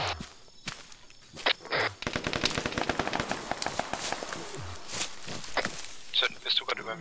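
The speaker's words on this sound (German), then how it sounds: "Ich glaube, der Sunny wird gerade erschossen." Rapid bursts of automatic gunfire in a nighttime ArmA 3 team-versus-team battle, sharp repeated shots forming a dense volley through the middle of the clip, with players talking over the firing.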